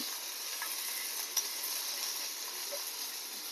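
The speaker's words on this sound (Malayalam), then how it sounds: "കുറച്ച് ഉലുവ, കുറച്ച് കരിവേപ്പില എടുത്തിട്ടുണ്ട്. അതിനെ നന്നായിട്ട് ഒന്ന് വറുത്തെടുക്കാം." Fenugreek seeds and curry leaves sizzle steadily in hot oil with asafoetida in a pan, cooking for an Onam sadya curry. The frying hiss is even, with one brief click partway through.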